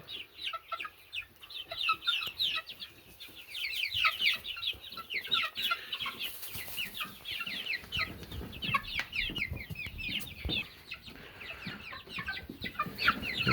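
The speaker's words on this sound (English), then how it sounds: "It's a rooster, obviously." Buff Brahma chickens, a rooster among them, cluck and chatter continuously in a busy flock, many overlapping close-up calls with rustling movement underneath.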